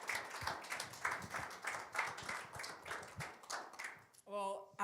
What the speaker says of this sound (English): Everyone, give her a round of applause and help me welcome her.